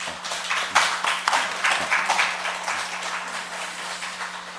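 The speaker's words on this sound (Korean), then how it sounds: "우리 서로에게 한 해 동안 감사하다고 박수 한번 치고 시작해 좋겠어요" Church congregation applauding together in a sanctuary, a dense, steady wash of many hands clapping at close to moderate distance, sustained without a break for several seconds.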